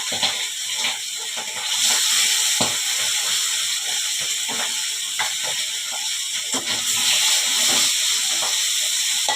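Fish frying in its own abundant oil in a pan gives a steady close hiss and crackle, with frequent small pops and spatters running throughout.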